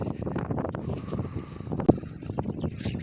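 Wind gusting across a typhoon-damaged vegetable field, a steady rushing buffet with microphone wind noise and one sharp knock partway through, no talk.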